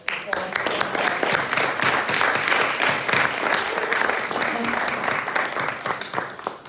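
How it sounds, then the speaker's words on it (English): A library lecture audience gives a long, steady round of applause, dense and continuous clapping from a sizeable crowd with faint voices mixed in, tapering off at the close. "Another round of applause"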